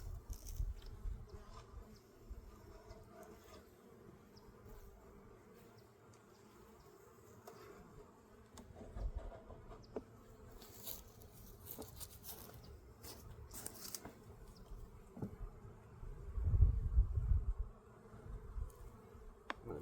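Honeybees buzz around an opened hive during a spring inspection, with a faint, continuous hum of many wings and occasional louder close passes and handling knocks.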